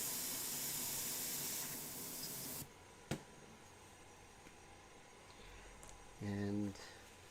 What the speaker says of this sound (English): I'm going to take this airbrush and I'm going to clean it out thoroughly.